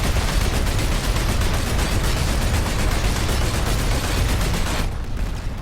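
Rapid automatic fire from a Lightning light tank's gun aimed at enemy aircraft in a video game, a dense continuous burst that runs loud for about five seconds before cutting off.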